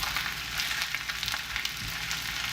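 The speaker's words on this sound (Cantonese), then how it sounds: "我哋又再煎多2-3分鐘啦" Guangzhou-style crispy noodles with Chinese broccoli and ham, half pan-fried and half deep-fried in oil over high heat, crackle in a quiet, steady sizzle with light popping throughout and no speech.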